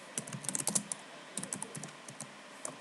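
Fingers tap a computer keyboard in short uneven bursts of crisp clicks, close and quiet, with brief pauses between runs of keystrokes.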